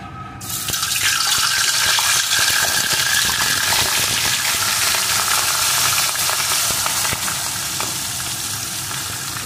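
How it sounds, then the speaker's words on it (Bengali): Pieces of katla fish fry in hot mustard oil in a kadai, giving a steady, dense hiss and crackle that swells after a quiet start and holds close and loud with no talking. "এখন আমি মাছগুলোকে প্রথমে ভেজে নেব।"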